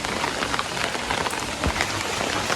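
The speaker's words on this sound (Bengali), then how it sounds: "বৃষ্টির পরিবেশ" Rain pours under a cloudy sky in a village yard beside a vegetable trellis, a dense, close, unbroken roar of drops hitting surfaces.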